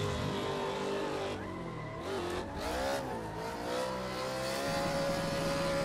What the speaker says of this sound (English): This corner was the corner that took me forever to actually get when I first started drifting in Assetto Corsa.